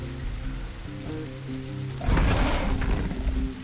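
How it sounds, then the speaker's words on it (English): Rain in the dinosaur survival game The Isle, a steady patter under a low droning tone that swells into a louder, heavier downpour partway through. "The rain was disguising my approach."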